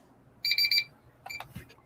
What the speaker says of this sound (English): that's the timer for our final sprint here.